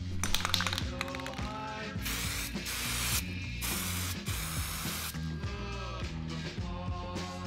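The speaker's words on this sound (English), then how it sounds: "once we've done the isolated spraying on this section" Repeated bursts of aerosol spray hiss up close in long passes as gunmetal paint is sprayed onto a wheel, separated by short pauses and faint clicks, with music playing softly underneath.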